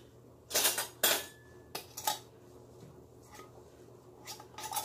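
A metal lid is fitted and screwed onto a glass canning jar of homemade soup, producing a few sharp clinks and scrapes in short bursts, with quieter rattles between them and a low background hum.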